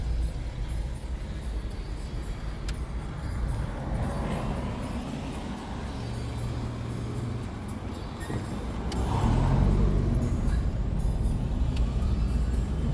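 A car on a city road passes fast, its engine and tire roar swelling near the end over steady traffic rumble, with no talk.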